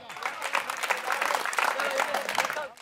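Audience at a Hindi comic poetry recital clapping, a dense burst of applause from a crowd that continues steadily for a few seconds.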